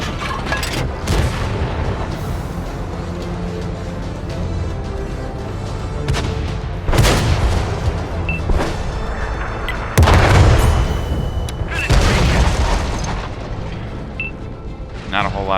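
Tank cannons fire in World of Tanks: several heavy booms land at irregular intervals, with the loudest blasts around the middle and later parts. A steady rumbling game background and a voice sit underneath.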